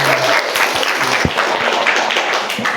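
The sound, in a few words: applause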